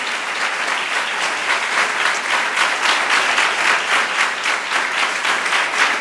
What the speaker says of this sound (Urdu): آئیں یسوع بادشاہ کے لیے زوردار تالیاں بجائیں